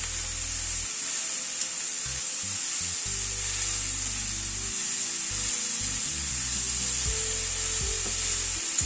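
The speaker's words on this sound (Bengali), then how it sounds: "সবজিগুলো এবং পেঁয়াজটা একটু ভাজা ভাজা করে নেব।" Vegetables and chopped onion frying in a pan over a medium gas flame, a steady close sizzle running throughout with occasional soft stirring scrapes and no talking.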